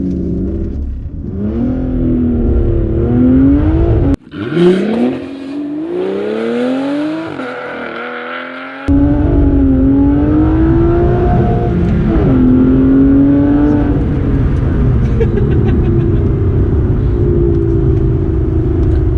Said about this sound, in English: launch control selected, foot on brake, mash the throttle, foot off brake